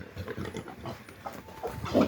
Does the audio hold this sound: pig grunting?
yes